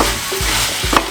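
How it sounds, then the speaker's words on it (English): Jamaican seasoning being stirred in a hot frying pan, a short burst of close sizzling with two quick scraping strokes of the utensil, no talk. "Mix it around."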